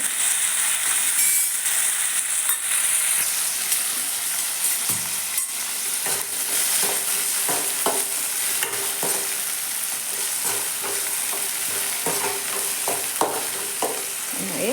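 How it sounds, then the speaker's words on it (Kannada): Onion and tomato fry in oil in a pan over cumin seeds, a steady nearby sizzle under frequent stirring scrapes and small clinks of a spoon against the metal. "ಕಲ್ಸಂದ್ರೆ ಸ್ವಲ್ಪ ಫ್ರೈ ಅಲ್ರಿ ಎಣ್ಣೆಗೆ."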